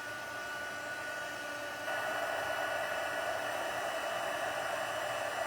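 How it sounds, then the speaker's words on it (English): Heat gun blowing hot air to melt craft material, a steady close whooshing hiss that steps up slightly louder partway through, with no talking. "once the heat gun is heated up, then it goes pretty quickly"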